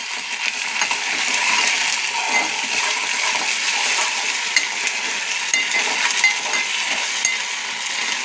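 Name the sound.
ginger garlic paste frying in pan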